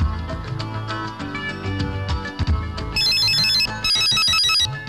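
A telephone rings with a bright, repeating electronic tone, two loud bursts in the second half, following background film music in a Telugu movie scene.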